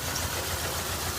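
A failing engine in a 2001 Dodge Dakota idling, a steady rough rumble heard close up and alone, with no pauses.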